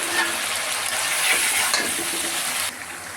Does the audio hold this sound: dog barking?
no